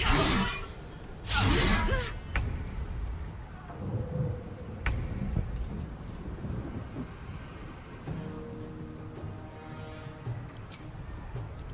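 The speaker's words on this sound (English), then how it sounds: "Well, I can still cast lightning." Lightning spell in Baldur's Gate 3 striking with sharp crackling thunderclaps, a loud burst near the start followed by further snaps and rumbling, fairly close, no voices.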